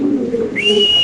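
Lahori pigeon, a checker-marked bird from a running pair on a pigeon farm, gives a short, close, low coo with a thin whistle-like tone rising over it.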